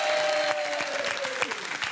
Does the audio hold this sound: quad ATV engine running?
no